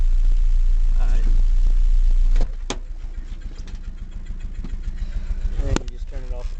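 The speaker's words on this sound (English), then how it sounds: "It's just that muffler is real loud." A 1989 Mazda B2200 four-cylinder pickup with a holed, loud muffler idles roughly and loudly close by, with a brief revving surge early on and a few clicks and knocks over the steady drone.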